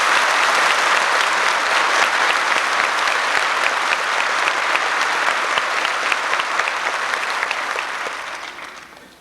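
An audience at a boot camp graduation ceremony bursts into sustained, dense applause that holds steady and then fades away in the last second or two.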